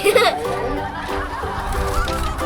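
Honking, goose-like duck calls sound in quick repeated bursts, loud and close at the start, then continue as a busy tonal honking with some voice-like sounds mixed in.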